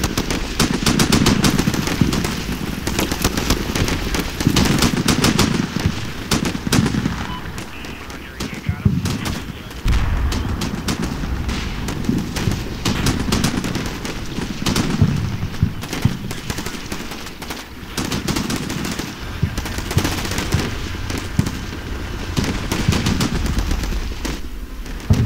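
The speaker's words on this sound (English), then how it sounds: "have two M240 heavy machine gun teams in the little gap on the right that are suppressing the command elements in the white building" Sustained automatic fire from M240 heavy machine gun teams in Combat Mission: Shock Force, loud repeated bursts running through the whole stretch amid a busy battle soundscape with scattered other shots.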